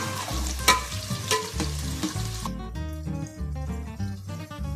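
Chopped onions fry in hot oil for a kofta curry, a continuous close sizzle with stirring scrapes, louder at the start and thinning to a lighter crackle, with no voices.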